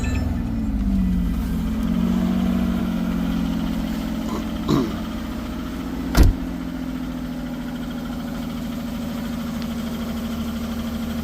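A car engine idles steadily with a noisy valve lifter tick under the hum, close and continuous, with a couple of brief knocks partway through.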